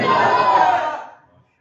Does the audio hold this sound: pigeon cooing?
no